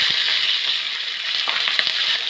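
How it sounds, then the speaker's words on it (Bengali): Potatoes frying in hot mustard oil in a wok give a loud, dense, continuous sizzle with bright crackling spatters throughout, and no voices. "তেলটা গরম হয়ে গেছে, আমি আলুগুলো দেবো,"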